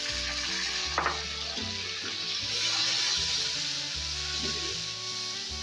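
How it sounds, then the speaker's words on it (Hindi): Onion, ginger and garlic fry in a pan as a little water goes in, giving a steady close sizzle with soft stirring and liquid sounds, no voices. "अब इसके साथ मैं थोड़ा सा पानी शामिल करूंगा।"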